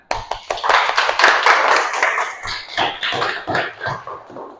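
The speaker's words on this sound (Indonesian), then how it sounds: "Ya, tepuk tangan." Children in a classroom clap their hands together in a lively burst of rapid, uneven claps, loud and close, with a few thumps and taps mixed in as the clapping thins out toward the end.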